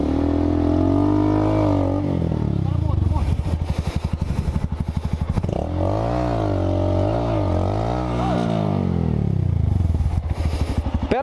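A Honda Fan 160 motorcycle climbing a rocky trail revs hard and repeatedly, its engine pitch surging and dropping in loud, close waves while riders talk over it.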